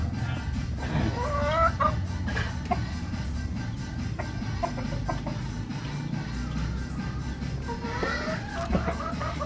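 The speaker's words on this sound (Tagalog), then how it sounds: "Ang gulo ng manok." Several chickens cluck noisily and continuously near a home, with scattered louder squawks over a dense, busy background of neighbourhood noise.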